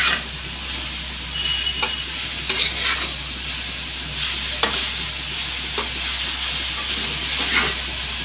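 Vegetables, spinach among them, sizzle steadily in a pan on low heat, with occasional scraping stirs and clinks of a utensil against the pan recurring every couple of seconds; no one speaks.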